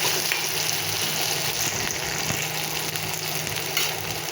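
Boiled potato sautés in a pan with green chili and cumin for sabudana khichdi, producing a continuous close sizzle with a few soft stirring scrapes.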